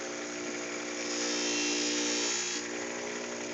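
Knife blade pressed against a motorized finishing wheel, a steady high-pitched whine with a tonal hum underneath that swells briefly in the middle as the edge bears down, then settles back, no talking.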